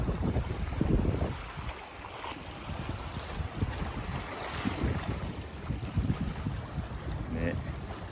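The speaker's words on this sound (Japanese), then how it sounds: "それで、ほら、海の音をちょっと聞いてください。" Wind and sea along the Seto Inland Sea shore on a breezy day after rain: steady gusty roar buffeting the microphone, with waves washing in underneath, continuous and fairly loud.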